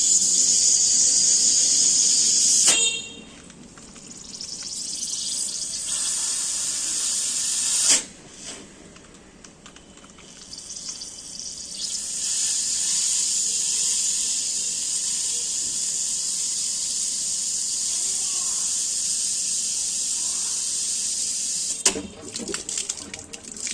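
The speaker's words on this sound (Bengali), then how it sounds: "ট্যাঙ্কের থেকে জল আসবে, সেটা এখন এটা থেকে এই দিকে ফ্লো হবে জলের" Water from a tank runs through a home water softener with a loud, steady hiss and spray that drops off and returns several times, broken by a few sharp clunks.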